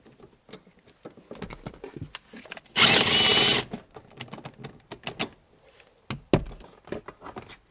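Power tool whirring briefly and loudly for under a second while removing a seat bolt in a Toyota Land Cruiser, surrounded by quieter clicks, taps and handling knocks, plus one short second burst later.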